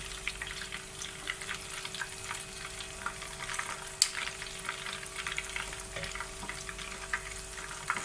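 Keema kababs frying in a pan over low flame, a soft, steady sizzle with faint crackles and one sharper tick, fairly quiet and without voices.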